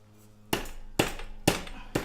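Mallet blows striking a BMX bike wheel while the tire is worked loose, four sharp, evenly spaced knocks about half a second apart, close and distinct with no talking.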